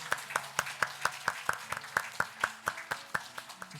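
A church congregation claps in a steady, even rhythm to bless a newcomer at a Sunday morning service, each sharp clap distinct and moderately close, with faint room murmur beneath.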